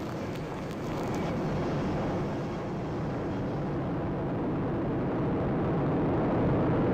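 A ULA rocket carrying USSF-51 roars steadily during ascent, a broad, continuous rumble that holds at a sustained level throughout.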